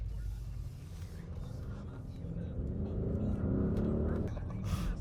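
A 2021 Audi RS Q8 accelerates hard, its engine and exhaust building into a loud, rising roar that swells toward the end, with a voice briefly heard over it.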